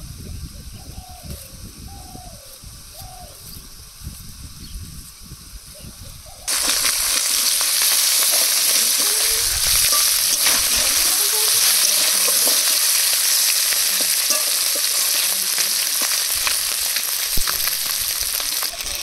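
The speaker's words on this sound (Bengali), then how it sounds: "মাছগুলো ভেজে নিয়েছি" Small mourala fish fry in hot oil in a village kitchen. Quieter clatter and faint bird coos come first, then a loud, continuous, close sizzle takes over for most of the stretch.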